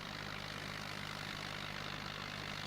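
Tractor engine running in Farming Simulator 2011, a low steady hum with a continuous even drone and no change in level, fairly quiet and with no voices.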